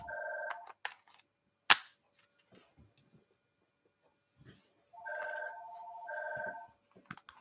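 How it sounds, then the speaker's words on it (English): A telephone rings in short bursts of electronic trilling, two or three separate rings spaced apart with quiet gaps and a sharp bang-like click between them, fairly near and without talk. "Here come the phone calls."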